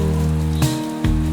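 Steady rain patters on a surface beneath a sustained tonal drone, with two brief louder washes of falling water breaking through.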